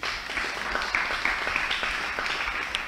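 A congregation applauding during an Orthodox catechesis gathering, steady dense clapping with occasional cheers, moderately loud and continuous throughout.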